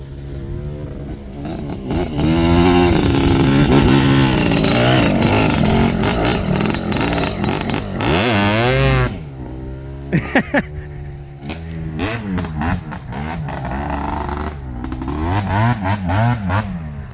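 A small two-stroke engine on a Yamaha Tri-Z 250 three-wheeler, long left sitting outside, revs hard and buzzes loudly up close, dropping and climbing in pitch through several throttle blips.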